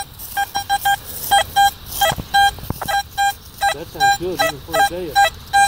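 Repeated electronic beeping tones from a metal detector in short bursts, some steady and some warbling up and down, close and fairly loud with brief gaps between.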